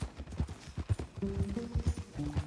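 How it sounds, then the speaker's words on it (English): Horse hooves clip-clopping at a steady walking pace in the Red Dead Redemption 2 video game, close and clear, with a faint low hum underneath. "this is a horse that they found this horse surrounded by the corpses of 3 bears"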